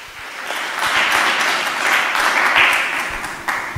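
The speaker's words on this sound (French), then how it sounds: "On l'accompagne avec les applaudissements." An audience at a formal speaking event breaks into sustained applause, a dense and steady wash of clapping from many hands that holds for several seconds without any speech.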